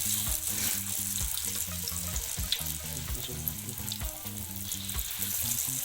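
Tempeh frying in hot oil, a dense continuous sizzle with crackling pops close by, under a faint low rhythmic hum.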